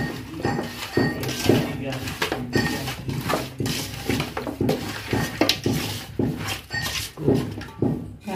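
Chicken leg pieces mixed by hand with masala powder and salt in a bowl, repeated rhythmic squelching and scraping strokes against the dish, close and fairly loud, with people talking over it.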